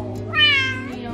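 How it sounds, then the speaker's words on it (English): A pet cat meows once from up on top of a kitchen cabinet, a short rising-and-falling call heard clearly over a low room hum. "She's meowing at you guys."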